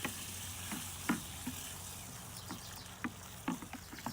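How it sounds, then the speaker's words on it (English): Grain mash for a session IPA is stirred in a brewing pot, soft scraping and sloshing strokes recurring irregularly against a faint steady background hiss. "I'm stirring it and stuff"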